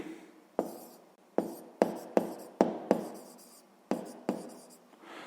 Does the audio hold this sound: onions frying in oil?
no